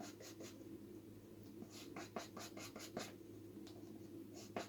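A palette knife scraping and mixing oil paint on a palette, blending a drop of blue into a base color, with soft repeated scratchy strokes close up, quiet and steady.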